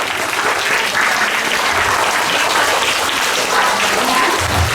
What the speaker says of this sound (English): Big round of applause, louder.